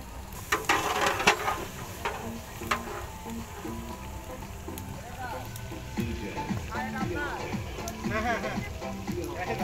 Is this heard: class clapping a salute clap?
no